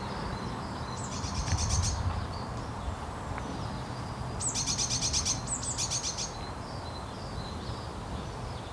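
Blue tits giving alarm calls in a garden: two bursts of rapid, scolding chatter, the second longer, at moderate distance over steady outdoor background noise.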